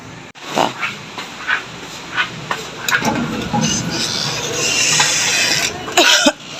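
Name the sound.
person coughing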